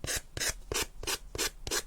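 A sanding block drawn in one direction along the edge of paper in a mixed media craft piece, making six even, rhythmic rasping strokes, close and fairly quiet, with no voices.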